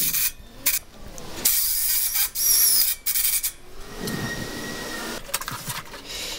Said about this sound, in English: And now screwing it on with some self-tapping screws.